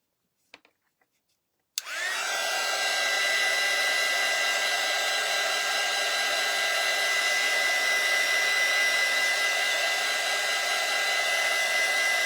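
A few faint clicks, then a heat dryer switches on and blows steadily and loudly, a constant whirring rush used to dry a craft print on a cutting board.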